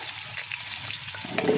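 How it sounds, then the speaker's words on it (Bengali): Potatoes fry in hot oil in a heated wok, giving a steady, close crackling sizzle that swells a little louder near the end, with no voices. "এবার আমি আলুগুলো ভেজে নেব"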